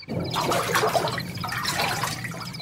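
A bucket of water dumped over a person as a radio-drama sound effect: one loud, continuous rushing gush lasting a couple of seconds, heard on its own with no talk.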